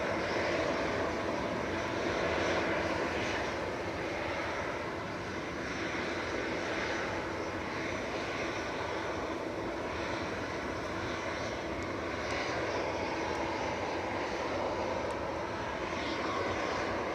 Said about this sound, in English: Lufthansa City lining up now. Flight 2503 to Munich